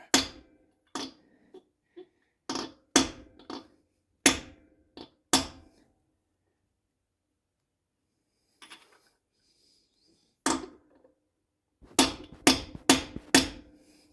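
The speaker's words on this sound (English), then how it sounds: "This is not the greatest position for swinging a hammer on a bearing that's in a vertical position." Hammer blows on a vertically positioned bearing while installing a Wildcat XX 1000 water pump, sharp metallic strikes coming in irregular clusters with quiet gaps between, close and fairly loud.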